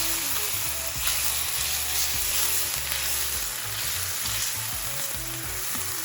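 Garlic frying in a warm pot turned down to low heat, a steady sizzle with stirring, close and continuous over a music bed, no talking.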